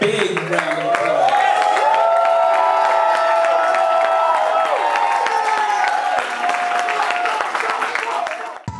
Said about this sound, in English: let's just give them a big round of applause